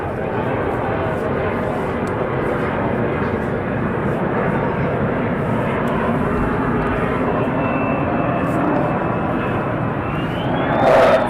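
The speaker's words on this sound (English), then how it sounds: "First in the pattern, we do have two F-35Es." Two F-35 fighter jets in the circuit at RAF Lakenheath fill the air with a loud, sustained engine roar that rises near the end, as someone commentates over it.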